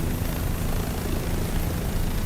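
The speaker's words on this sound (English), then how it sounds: "we are gonna see a helicopter flying around up here east northeast of the crash site" A helicopter flying overhead near a crash site in a steady, continuous broadband roar of rotor and engine noise throughout, unbroken by voices.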